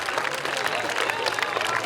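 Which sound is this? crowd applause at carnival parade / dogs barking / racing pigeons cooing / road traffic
crowd applause at carnival parade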